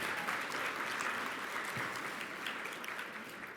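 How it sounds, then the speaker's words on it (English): Steady, dense applause from a large audience at a science education summit plenary session, heard at a distance and fairly faint, holding an even level for the full length. "If we could give them a round of applause, please."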